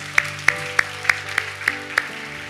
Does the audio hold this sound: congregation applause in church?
yes